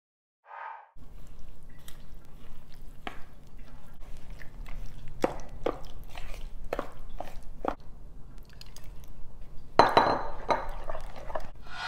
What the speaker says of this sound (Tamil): இப்போ கொஞ்சம் கொஞ்சமாக தண்ணி ஊற்றி மாவு கலந்து எடுத்துக்கலாம்.